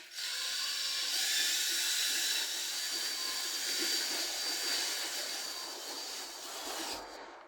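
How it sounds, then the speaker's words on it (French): Joint compound plaster being stirred with a power mixer, a steady high whirring drone that runs continuously for about seven seconds and cuts off at the end, with no voices. "On va déjà mélanger un petit peu."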